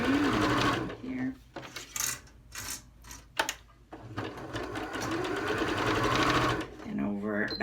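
A sewing machine back-stitches over elastic on a fabric face mask, a close, rapid mechanical chatter in several runs with short pauses, while a person talks over it.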